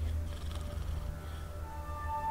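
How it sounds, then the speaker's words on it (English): A cat named Nibbles purrs softly close by, a low steady rumble that continues through the whole moment with a faint hum in the background and no voices. "Oh, Nibbles, you's a naughty kitty, aren't you?"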